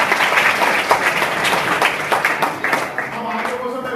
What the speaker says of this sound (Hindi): अमृता के लिए एक बार जोर से ताली बजाएं।